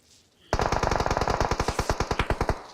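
Automatic gunfire in PUBG Mobile starts abruptly after a quiet moment and runs as a rapid, loud, even burst of about two dozen shots that slows slightly toward the end.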